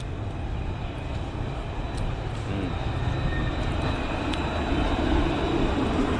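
A steady low rumble of a train rolling past on city rails in a pedestrian street in Lyon, France, continuous and fairly loud, with faint street ambience and occasional high squeals.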